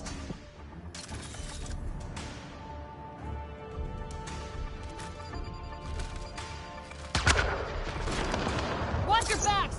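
Rapid bursts of gunfire in Mass Effect Andromeda crackle in a busy, dense mix, with sharp impacts and a louder flurry near the end.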